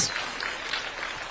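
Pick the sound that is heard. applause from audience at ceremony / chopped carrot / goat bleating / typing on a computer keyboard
applause from audience at ceremony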